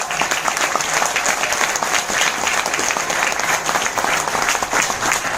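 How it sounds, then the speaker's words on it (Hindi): Steady, dense applause from an audience welcoming a guest at an event, loud and sustained throughout with no break, many hands clapping close and far at once. "उनके लिए तालियां"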